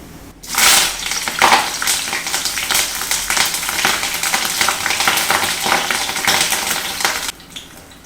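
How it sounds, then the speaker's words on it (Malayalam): Green chillies and curry leaves fry in hot oil in a pan, giving a dense, steady sizzle and crackle that starts abruptly and continues loudly for several seconds before cutting off near the end. "വേപ്പിലയും വറുത്ത്"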